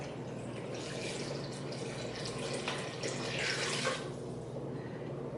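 Water is poured steadily from a container into a pot of sautéed black beans for Cuban-style cooking, a faint continuous splashing trickle that swells slightly toward the end.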